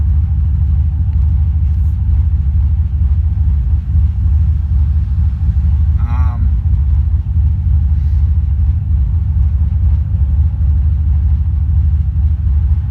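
A car with stiffer springs, tyres at about 200 kPa, drives steadily, heard from inside the cabin as a continuous low engine rumble and road drone with no break in level.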